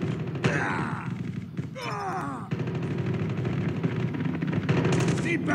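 Rapid gunfire rattles through a shooter video game in repeated automatic bursts, loud and close, with game effects and sweeping tonal sounds between volleys.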